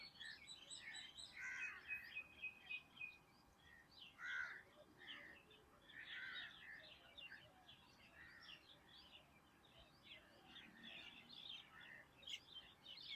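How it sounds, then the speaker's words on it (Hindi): Birds chirp and crows caw outdoors in a calm setting, a continuous, fairly quiet mix of tweets and harsher calls from moderate distance throughout. "परिंदों की चहचहाट"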